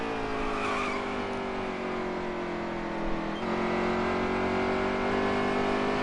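Race car engine in NASCAR Heat 3 at ISM Raceway, a steady high-pitched drone with layered harmonics that dips briefly and recovers as the car works through a turn, loud and continuous.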